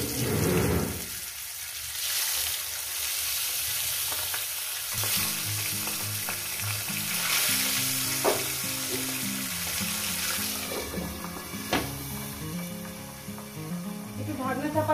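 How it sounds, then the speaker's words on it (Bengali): Pabda fish fry in hot oil in a pan, giving a continuous crackling sizzle with occasional pops and stirring clinks, set against soft background music. "মাছটাকে সুন্দর করে একটু ভেজে নেব"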